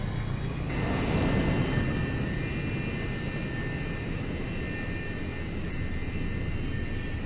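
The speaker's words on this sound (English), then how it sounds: "Hit the cruise engines." Spaceship cruise engines fire in the Freelancer game, a loud steady jet-like roar that surges up with a brief rushing whoosh after a moment, then holds as an even, sustained drone with a thin high whine, no voices.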